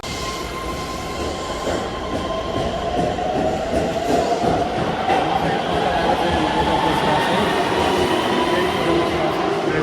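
A train pulling into a station, loud and close, its rumbling wheels joined by long rising metallic squeals as it brakes, with faint voices in the background.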